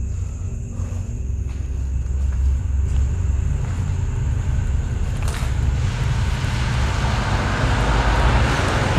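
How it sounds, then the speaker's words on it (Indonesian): Cars passing on a road outside, a steady loud low rumble of traffic that builds and broadens toward the end as vehicles draw nearer, with no talking. "mobil lewat jalan"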